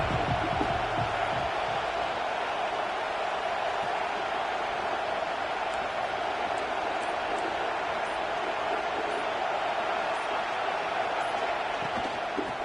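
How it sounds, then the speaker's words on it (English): Steady stadium crowd roar in the Madden 26 football video game, a dense continuous wash of cheering that stays loud and even throughout, with no voice over it. "This crowd ready to make its presence known."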